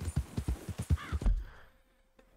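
A horse's hooves clip-clop at a quick, regular pace while riding in Red Dead Redemption 2, close and clear, then fading to near silence before a brief final sound.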